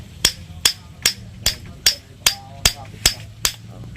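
A hammer strikes metal nine times at a steady, even pace, each a sharp, bright ringing tap, close by over a low background hum.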